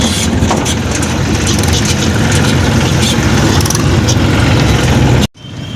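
A tractor reverses with a loud, close engine rumbling steadily and heavily, then the sound cuts off abruptly near the end.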